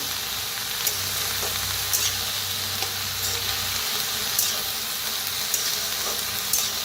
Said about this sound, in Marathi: आता ह्याच्यातच टाकूया मटर बी. त्याला भाजून घेऊया.